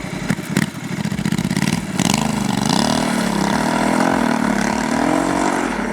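Honda Africa Twin 1100 DCT twin-cylinder engine running at a steady mid-range, a loud, continuous throbbing drone with a rising pitch after a rougher start, close and alone.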